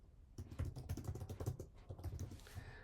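Brisk bursts of keystrokes on a computer keyboard, close and fairly quiet, clattering in an uneven rhythm for a few seconds with no voice.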